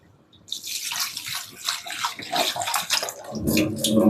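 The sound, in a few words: washing flattened rice (aval) with salt water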